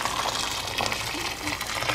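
Hot water running and splashing into a pot for boiling manti, a steady gushing pour with slight surges, fairly close, with no talk over it.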